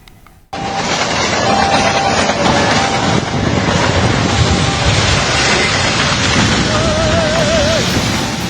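A Purwojaya passenger train on the Jakarta–Cilacap line runs on the rails near Bekasi, West Java, giving a loud, steady roar of rolling wheels and wind-like rushing noise that holds for several seconds.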